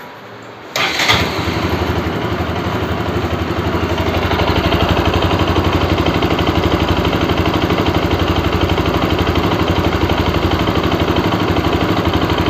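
A Bajaj RS200 motorcycle engine, checked after an engine noise problem, cranks and fires about a second in, then settles into a steady, close, loud idle with an even rhythmic putter.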